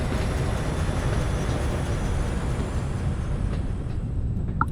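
A video game train runs steadily with a continuous low rumble and broadband rolling noise, holding constant level throughout with no voices.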